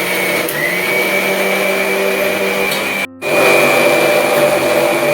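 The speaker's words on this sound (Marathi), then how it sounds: "ये मिक्सर चला और गार गार गार गार गार गार गार गार घूमने लगा अभी." A kitchen mixer grinder runs loud and close with a steady high whine, cutting out abruptly for a split second near the middle before roaring back at full strength; no one speaks.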